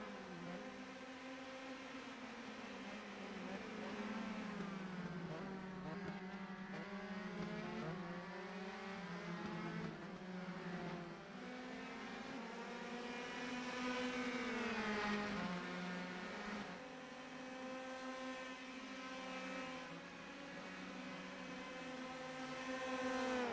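Race cars in a racing video game, their engines droning with rising and falling pitch sweeps as they accelerate and shift, a continuous layered whine with no talk.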